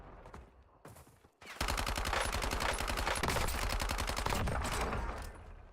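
A submachine gun rattles off a long, rapid automatic burst in the battle royale shooter Warzone, loud and close with evenly spaced shots lasting several seconds after a few quieter sounds.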